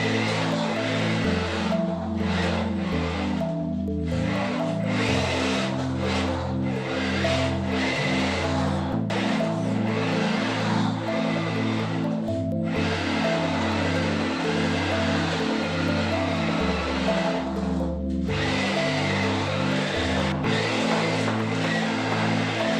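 VolantexRC toy RC drift car zipping and sliding around, a constant loud electronic motor whine pulsing in regular on-off bursts as the throttle is blipped, with no voices.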